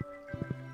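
Bubbles in Stardew Valley give a few soft, short watery blips, three quick pops in close succession after an opening one, over a steady tonal game music bed.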